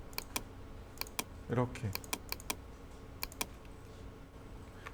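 Sparse, crisp computer keyboard key presses, single and clustered taps over a quiet room tone, while someone briefly speaks Korean partway through.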